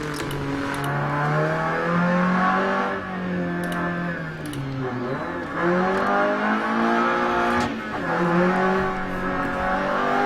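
A Peugeot 205 rally car engine in the video game DiRT Rally drones and revs steadily, pitch rising and dipping through gear changes, loud and continuous with no talking.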